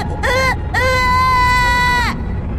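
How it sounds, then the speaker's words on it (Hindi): A baby wails loudly in two long cries, a short burst then a sustained sobbing wail, set in a Hindi horror story with faint background ambience. "तभी उसके कानों में उसके बच्चे की बहुत जोरों से रोने की आवाज आई"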